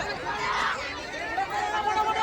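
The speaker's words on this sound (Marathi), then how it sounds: "किती तुडुंब गर्दी बघा मित्रांनो" A packed crowd of pilgrims at a bus stop in Pandharpur, a dense, steady babble of many overlapping voices close by, with no single speaker standing out.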